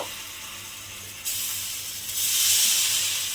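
A ladle of flour batter hits a hot oiled griddle and breaks into a steady, bright sizzle that grows louder in two steps, close up with no talk.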